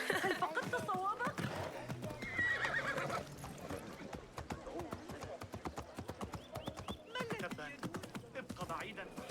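A horse in Assassin's Creed Mirage gallops with rapid, rhythmic clip-clop hoofbeats and whinnies, close and steady throughout, with game voices talking over it.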